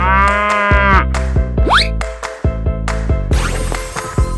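A cow moos in a 3D animal slide game, several loud drawn-out lowing calls over playful game music and sound effects, with a rising whistle-like effect in the middle.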